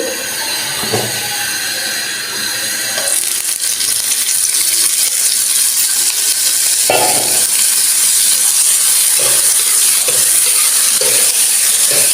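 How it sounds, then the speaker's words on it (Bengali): Shrimp fried in oil in a pan with dried chillies and black cumin seeds, a loud continuous sizzle close by with intermittent scraping and clinks of stirring, no voices. "চিংড়ি মাছটা ভাজবো"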